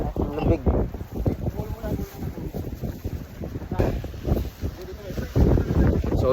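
Strong gusting wind buffets the microphone on the Akiki trail up Mt. Pulag, roaring steadily and loudly throughout with people talking over it.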